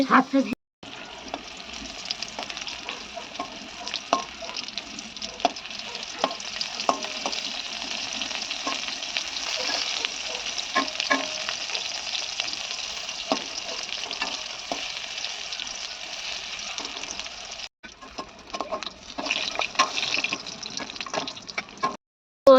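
Pointed gourd frying in a pan with a steady sizzle, crackling continuously with occasional stirring scrapes, close and fairly loud, briefly dropping out near the end.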